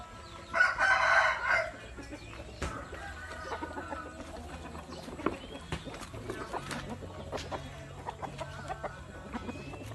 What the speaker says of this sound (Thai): นี่คือไก่หนุ่ม ที่เพาะเองนะครับ